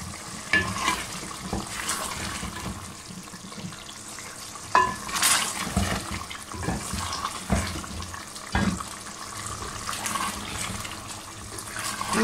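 White beef korma simmering in a pot as its remaining water cooks off, with steady frying sizzle, bubbling and occasional stirring clatter, close and fairly loud throughout.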